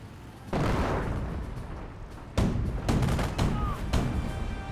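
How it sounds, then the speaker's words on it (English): A commando decoy artillery barrage in Company of Heroes: several heavy booming impacts land in quick succession, loud and close, with rumbling decay between blasts. "I think that was a commando decoy barrage"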